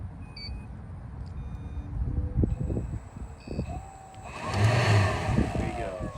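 A unit powers up and spins up: a soft electronic beep and tones, then a rising whir that climbs in pitch and swells loudly near the end, over a low background rumble.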